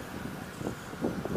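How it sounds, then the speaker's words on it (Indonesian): Strong gusting wind buffets the microphone during an outdoor FPV drone flight over trees near Kupang, NTT, a steady low rumble with rising surges toward the end. "Anginnya guys, kencang."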